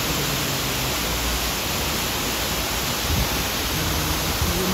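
Steady broadband rush of water falling in a fountain in Alameda park, Lisbon, a continuous even wash with no voices.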